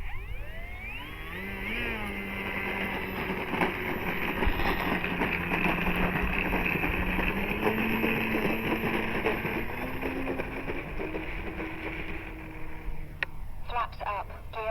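A Banana Hobby T28 1.1 m RC model plane with retractable gear takes off, its motor whine rising and holding steady under wind noise, with a few sharp clicks near the end.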